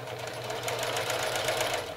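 An old sewing machine, freshly cleaned, runs at a steady speed with a smooth, even whirring and rapid rhythmic ticking, close and fairly quiet.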